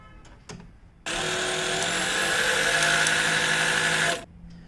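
A sewing machine stitches along the edge of Afghani salwar fabric in one steady, continuous run of whirring motor noise lasting about three seconds, preceded and followed by faint handling sounds.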